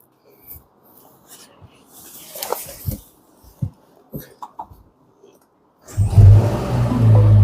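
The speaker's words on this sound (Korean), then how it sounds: "AMG 차량답게 우렁찬 배기음을 자랑하고 있습니다" Mercedes-AMG SL 43 with a 2.0-litre, 421-horsepower engine starts after quiet cabin rustling and clicks, then settles into a loud, deep, steady exhaust idle close by.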